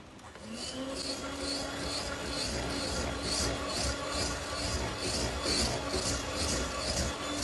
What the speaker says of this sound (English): Scrape the sides and bottom again.